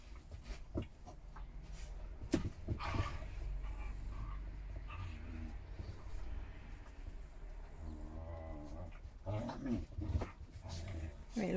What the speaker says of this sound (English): That's the sausage having a wrestle with the little bulldog pup.